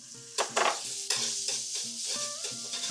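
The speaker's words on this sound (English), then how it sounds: "cook the garlic. Nice sound." Garlic sizzles in a hot pan while being stir-fried for Korean glass noodles (japchae), with a steady close frying hiss and a few sharp scrapes and clinks of a utensil against the pan.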